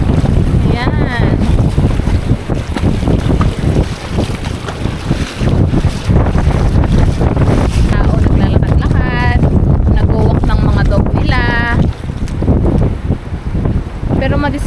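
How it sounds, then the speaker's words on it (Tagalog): Blustery wind buffets an outdoor microphone on a cool, breezy day, a steady loud rumble running throughout while someone talks over it. "Ang lamig naman. Mahangin."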